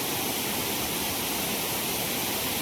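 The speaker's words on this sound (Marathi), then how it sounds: "हा धबधबा अजून एक तिथं आहे." Waterfall near a Shiva temple site during monsoon, a constant loud roaring rush of falling water with no other sounds.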